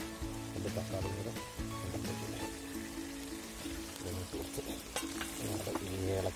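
Tomatoes and onions for a chicken curry sizzle steadily in a pan while being stirred, with scraping and clinks from the spoon. The cooking is close and loud, with faint music in the background.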